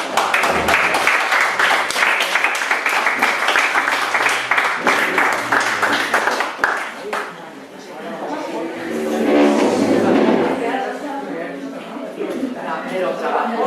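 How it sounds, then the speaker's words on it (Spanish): Applause from the audience at a Spanish interview event, dense clapping rolling for several seconds, then thinning as a voice comes in and talk continues over scattered claps. "Un aplauso."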